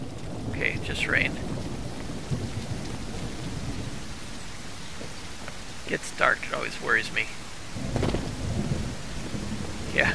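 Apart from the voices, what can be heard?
rain and thunder in the video game Mist Survival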